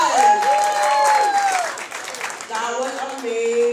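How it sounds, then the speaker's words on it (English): Audience applause at a community celebration of Black brilliance and storytelling, a crowd clapping and cheering steadily for several seconds after a performance, with a voice ringing out over the din. "Can we give another round of applause?"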